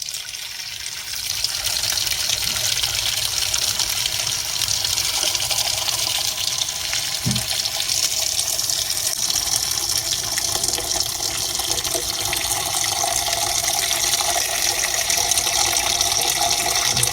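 A kitchen tap runs steadily into a pot or sink while potatoes are prepared for boiling, a continuous rushing hiss of water that starts just after a brief quiet moment and carries on alone.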